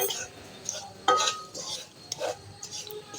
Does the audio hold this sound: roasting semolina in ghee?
yes